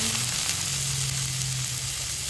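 Onions frying in a pan for healthy chowmein with chopped carrots, a loud, even sizzle that holds steady throughout with no talking.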